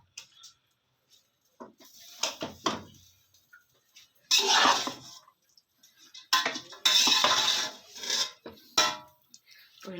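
Boiled rice is worked into a fried rice mixture with chicken and egg in a pan, making bursts of scraping, rubbing and clattering utensil strokes between short pauses, with faint speech at times.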